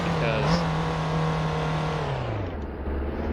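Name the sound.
Lamborghini Temerario nitrous boost in Driving Empire video game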